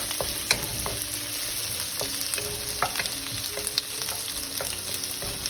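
Chopped onion fries in a pan for Indo-Chinese idli manchurian, a steady close sizzle with scattered crackles and pops, continuous throughout with no talking.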